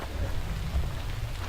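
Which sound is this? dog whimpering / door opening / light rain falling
light rain falling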